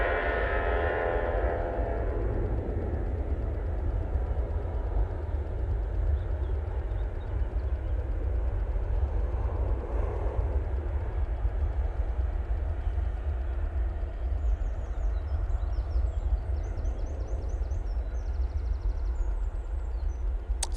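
A TUI Boeing 737-800 airliner rolls for takeoff at Manchester Airport, a steady broad jet roar heard from a distance, continuous and fairly faint, with no voices.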